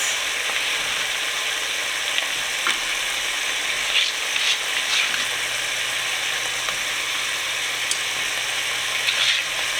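Onions and carrots fry in a hot pan, a steady dense sizzle with occasional crackles and faint scraping of a utensil, close and continuous without talk.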